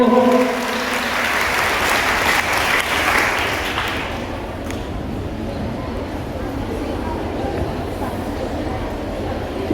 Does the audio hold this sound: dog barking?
no